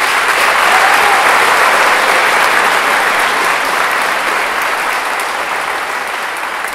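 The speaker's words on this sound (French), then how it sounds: "prenons quelques instants ensemble pour les remercier en leur donnant une chaleureuse main d'applaudissement" Audience applauding coaches at a school sports awards gala, a dense sustained wave of clapping that stays loud throughout and fades slightly toward the end.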